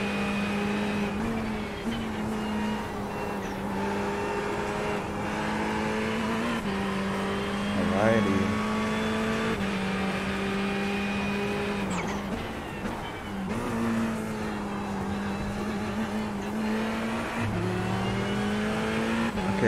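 A Formula 1 car engine in the iRacing sim, a loud, sustained high-pitched whine that rises and drops through gear shifts and revs, with brief tire squeal, continuous and close.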